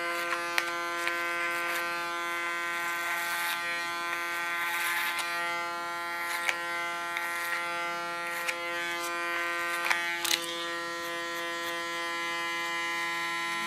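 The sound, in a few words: electric hair clipper buzzing while cutting hair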